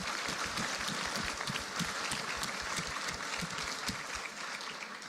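Applause from participants at a citizens' jury session, a moderate crowd clapping in a steady, rippling patter, fairly faint and distant, easing slightly toward the end.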